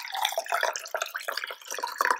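Leftover chicken breast cooking water is poured into a measuring cup for a coxinha dough, a steady trickling, splashing stream with bright droplet sounds, close and moderately loud.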